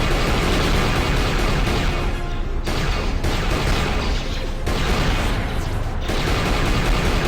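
Turret gunfire from the Knights of the Old Republic 2 video game roars as a dense, continuous barrage of rapid shots and blasts, loud and unbroken with brief dips, with no talking over it.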